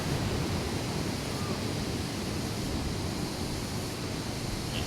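Waves break and foam along the shore of Nagtabon Beach in Puerto Princesa, producing a continuous broad wash of surf that holds steady and fairly soft, with no voices over it.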